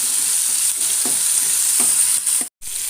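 Dried red chillies sauté in a hot pan with two other ingredients for a Calicut-style fish curry lunch, giving a steady close sizzle broken by a few soft stirring scrapes and one brief drop to near silence.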